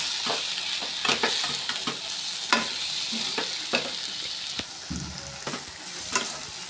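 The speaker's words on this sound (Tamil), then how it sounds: "மல்லித்தழை எல்லாம் போட்டு மிளகாத்தூள், மஞ்சள்தூள், உப்பு, மல்லித்தழை எல்லாத்தையும் போட்டு நல்லா வதக்கிட்டோம்" Rice masala with coriander leaves, chilli powder, turmeric and salt sautés in a hot pan, a steady close sizzle broken by repeated spatula scrapes and knocks.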